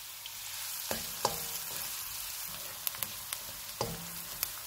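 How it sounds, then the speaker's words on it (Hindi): Chopped onion frying in hot oil over low to medium heat for tuna pasta, a steady soft sizzle with a few sharper crackles and light utensil clicks, close and alone. "ऑयल गर्म हो गया। इसमें 1 प्याज डालेंगे।"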